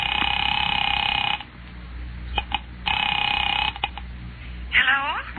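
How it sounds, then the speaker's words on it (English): An old-style telephone ringing in long bursts, separated by pauses with small clicks and handling noises, ending with a quick swooping warble. "Picking it up quietly, I dialed my daughter's number, Alec Bartlett's wife."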